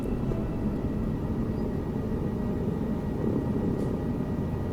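Helicopter in flight over Montreal, a steady low rotor and engine drone heard from inside the cabin, constant and unbroken with no voices.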